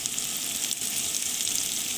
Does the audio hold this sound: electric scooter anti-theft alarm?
no